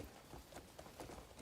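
Horse hooves clip-clopping in Crimson Desert, a quick, faint run of soft, evenly spaced hoof beats.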